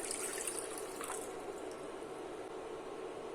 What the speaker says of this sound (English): To a pot on medium-low heat, add in water.